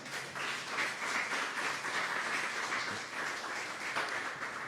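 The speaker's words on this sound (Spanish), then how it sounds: "¿Podemos darle un aplauso al Señor?" A church congregation in Cancún claps in praise during a worship service, a steady, moderately distant wash of applause that holds evenly throughout without voices on top.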